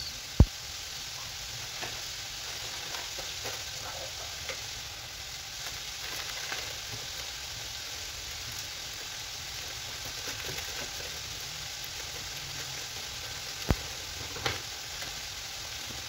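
Farofa made from cassava flour, mixed with bacon and green onion, sizzles steadily in a frying pan as it is stirred. A continuous, even frying hiss runs throughout, with a few sharp clicks of the utensil against the pan.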